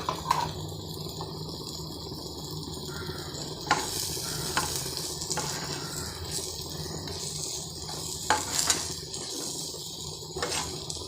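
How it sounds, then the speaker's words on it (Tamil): Jaggery melting and being stirred in a hot pan while cooking a bitter gourd dish, giving a steady soft sizzle with scraping stirs and a few louder clatters, close and continuous. "அந்த வெல்லம் உருகிட்டு இருந்தோம். வெல்லம் வந்து அந்த சூட்டுக்கே உருகிடும்."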